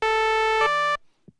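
A Microkorg synthesizer plays a sine-wave patch with cross modulation, a bright, buzzy sustained tone that shifts pitch partway through and then cuts off abruptly, leaving near silence with a faint click.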